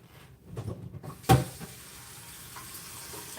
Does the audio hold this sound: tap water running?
yes